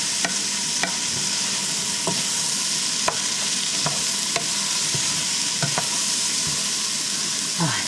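Shrimp and vegetables stir-fry in a hot pan for a low-carb Nicaraguan-style chop suey, a steady close sizzle broken by regular scraping clicks of a stirring utensil throughout, with no voices.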